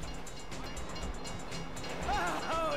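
A train rumbles past in the video game Grand Theft Auto 5, a steady low rolling noise with faint squealing whines toward the end, heard at moderate volume without talking.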